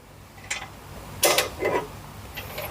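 A wrench tightening a bolt on a front strut bar, a few brief mechanical ratcheting creaks spaced apart, close and moderately quiet with no voices.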